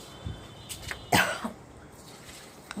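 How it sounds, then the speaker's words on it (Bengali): A person coughing indoors, one sharp close cough with a couple of softer breathy sounds around it, otherwise quiet with no speech. "এত কাশি হয়েছে না"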